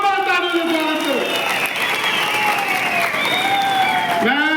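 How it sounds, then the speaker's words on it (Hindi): A crowd at a political rally in Doda, Bhaderwah constituency, Jammu and Kashmir, claps loudly and continuously, joined by cheering and a sustained tonal sound layered over the dense applause. "जोरदार तालियों से स्वागत करें।"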